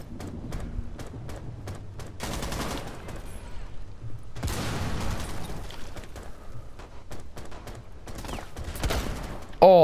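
Gunfire from Rainbow Six Siege gameplay: bursts of automatic shots and sharp single cracks come in clusters across the scene, loud and close, with a voice talking briefly among them.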